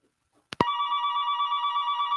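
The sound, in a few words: incoming telephone call ringing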